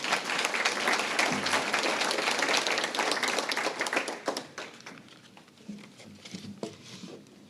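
At an awards luncheon, a seated audience breaks into a round of applause for a police chief, with loud, dense clapping that tapers off after a few seconds into scattered claps and room noise.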